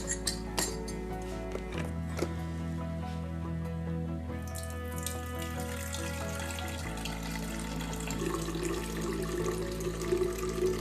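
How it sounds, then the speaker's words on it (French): Water pours from a tap through a small filter basket into a carafe holding matcha, with a steady running stream, light clinks of glass and a change in tone partway through as the carafe fills. "on va mettre le petit panier qui va nous filtrer tout ça et je vais remplir ma carafe"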